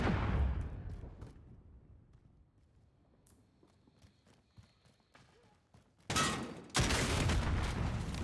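Call of Duty video game combat with a rocket launcher, a sharp blast at the start, scattered faint gunfire and clatter, then two loud explosive bursts close together near the end.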